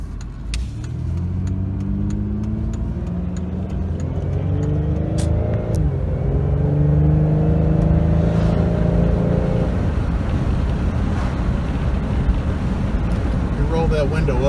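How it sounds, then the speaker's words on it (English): Steady road noise from a car driving with the window open after front end work, a broad continuous rumble and wind rush with a voice talking over it throughout. "Roll that window up, save you guys from some of this road noise."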